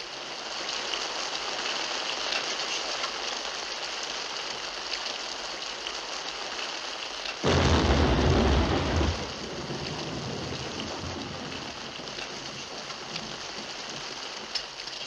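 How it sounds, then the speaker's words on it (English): Rain falls steadily outside as a constant, even hiss, swelling to a heavier, louder downpour for a couple of seconds midway before settling back to the same steady patter. "It's raining outside."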